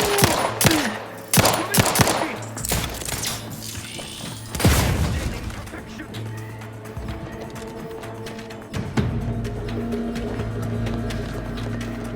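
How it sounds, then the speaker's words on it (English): Gunfire and explosions in the video game The Outer Worlds 2, a burst of loud sharp shots and thumps giving way to a deep boom and rumbling blast, followed by ongoing rattling combat noise. "Explosion!"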